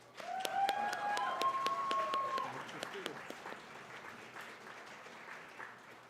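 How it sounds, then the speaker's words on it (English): Audience applause at a student gaming convention awards ceremony, steady clapping that is loudest early and tapers off, with a voice talking over the opening seconds. "So a huge round of applause for them as well."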